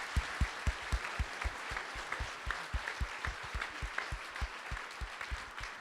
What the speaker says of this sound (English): Would you give him a warm round of applause